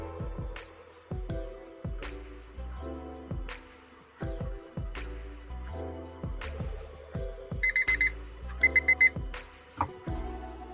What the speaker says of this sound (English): It's my timer, sorry.